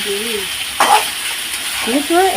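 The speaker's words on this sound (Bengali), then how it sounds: "আলু ভাজা হচ্ছে" Potatoes frying in oil in a kadai give a steady soft sizzle throughout, with brief voices and a short clatter of stirring over it.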